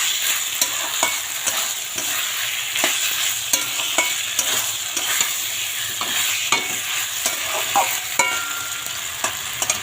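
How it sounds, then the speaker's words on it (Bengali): Spices and boiled peas are stirred and sautéed in a hot pan, a steady sizzle broken by frequent scraping strokes of a spoon, close and continuous with no talking. "তো চলো আমি মশলাটা ভালো করে কষিয়ে নিই"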